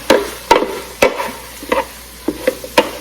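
Linguine with oregano is stirred in a Ninja Speedi, with several sharp, evenly spaced scraping knocks of a utensil against the pot over a quiet background.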